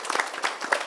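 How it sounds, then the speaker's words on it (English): Warm applause from a conference audience for a panel of speakers at an innovation ecosystem discussion in Dubai, a brief, dense patter of many hands clapping at moderate volume. "Can you give them a warm hand clap,"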